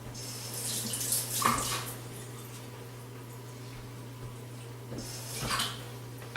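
Tap water runs over a kitchen knife being rinsed, with a steady splashing stream, a couple of louder bursts of water and a faint metallic clink nearby.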